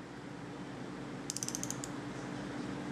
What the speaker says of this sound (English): the torque wrench that we're using is a Craftsman Micro Torque